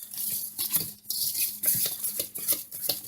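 A spoon works cornbread batter made with cornmeal around a bowl, giving quick irregular scrapes and light clinks close by, with short pauses between strokes.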